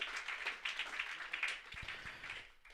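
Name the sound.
applause at a book launch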